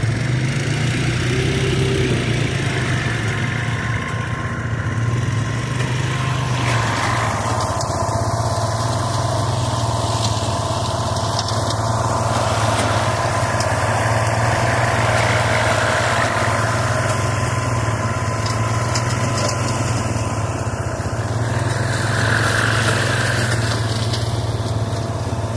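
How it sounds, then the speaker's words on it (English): A tractor engine drones steadily while pulling a rough cut mower through tall, coarse grass in a field, a constant low hum with faint shifts in load throughout and no talking. "I'm just going to mow the whole back half, leave the center, and a little strip in the front for driving"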